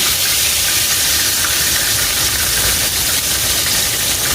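Chicken livers fry in hot oil with a dense, steady sizzle and hiss, loud and close, with faint pops scattered through and no voices.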